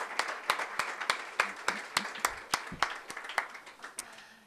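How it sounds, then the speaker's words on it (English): Lecture audience claps in a slow, sparse round of applause, individual sharp hand claps distinct and evenly spaced at moderate distance, with no voices over it. "please join me in a round of applause"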